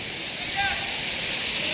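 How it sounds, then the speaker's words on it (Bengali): Haribhanga waterfall dropping from a great height gives a steady, broad roar of falling water that fills the short stretch without letup, loud and close throughout. "আসলে এত বড় ঝর্ণা আমরা আগে কখনো দেখি নাই"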